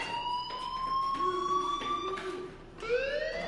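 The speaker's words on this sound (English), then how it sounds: "do you hear that fire alarm? That means you should be outside" Fire alarm sounding in the video game Life Is Strange, a loud steady electronic tone with wavering siren-like pitch that holds continuously before shifting pitch near the end, with no talking over it.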